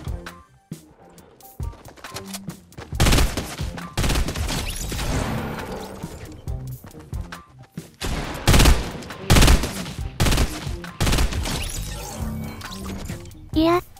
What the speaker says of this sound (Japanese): その場でしゃがみながらショットガン撃ってるな